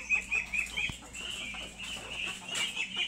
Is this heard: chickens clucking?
yes